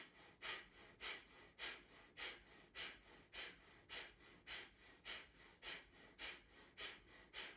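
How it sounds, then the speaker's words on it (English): Breath of fire yoga breathing: rapid, rhythmic nasal exhalations, about two per second, soft and close, each a short airy puff in an even, unbroken series. "and breath of fire."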